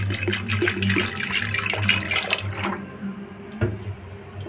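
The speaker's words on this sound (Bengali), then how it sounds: "অল্প লবণ আর জল দিয়ে দেবো" Water poured into chana dal in a pressure cooker pot, a close, splashing gush with light clinks that thins out and fades to a quieter trickle after a few seconds; no talk.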